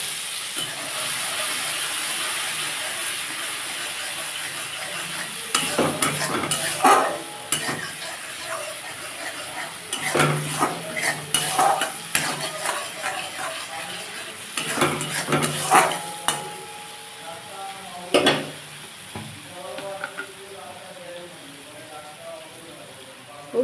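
Dried chillies and turmeric fry in hot oil for mustard hilsa, a steady sizzle and hiss broken by clustered bursts of spoon scraping and clattering against the pan as the mixture is stirred.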